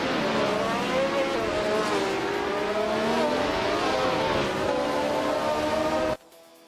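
A Tyrrell 07 race car engine in a racing video game drones loud and steady, its pitch rising and falling through gear changes as other cars whine alongside, then cuts off abruptly near the end.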